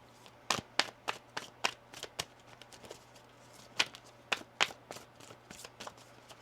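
Quiet, sharp tarot card riffles and snaps come in uneven shuffling bursts, some clustered close together, against a faint steady hum.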